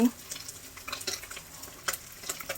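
Vegetables such as kohlrabi, potato and cauliflower with fish fry in a pan for a fish curry, giving a soft, steady crackling sizzle broken by faint stirring scrapes.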